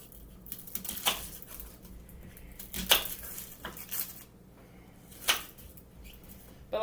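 A knife chops a tiny onion on a small chopping board: sparse, sharp taps and knocks at irregular intervals, a few clearly louder, close by and with no talking.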